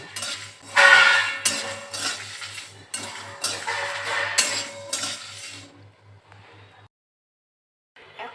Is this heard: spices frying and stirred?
yes